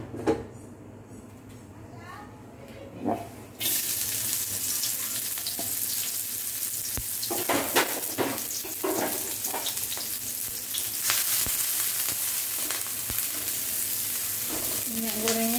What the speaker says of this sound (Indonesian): Sekarang kita tumis sawi dulu ya.